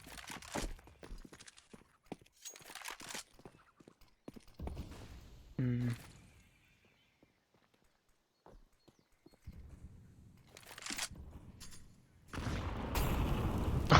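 Heavy grenade explosions and bursts of gunfire in a Counter-Strike match, arriving as loud broadband blasts that build toward the end among scattered clattering footsteps and game effects.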